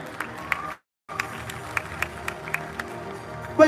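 A crowd at a volunteer rally declaring support for Anies Baswedan gives scattered applause, sparse irregular claps over a murmuring audience, broken by a brief silent gap.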